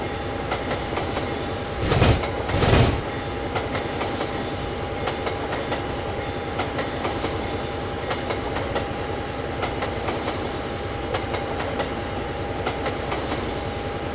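A cargo train in Train Simulator runs steadily on rails, with a continuous rolling rumble and faint clickety-clack, plus two short loud bursts early on against a constant hum.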